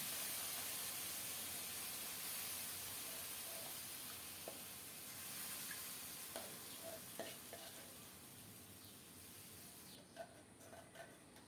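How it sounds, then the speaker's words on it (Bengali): Jute leaves hit hot mustard oil with browned chopped garlic in a pan, giving a loud steady sizzle that crackles throughout, with a few stirring clicks and a slight drop in intensity near the end. "অল্প করেই সরিষার তেল দিলাম রসুন কুচানো দিলাম রসুন একটু লাল লাল হলে এখন শাকটা দিয়ে দিচ্ছি"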